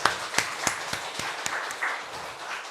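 A church congregation at a Sunday service claps to welcome a newcomer. The applause is light and scattered, with a few sharp distinct claps over a soft hum of the room, and lasts only a few seconds.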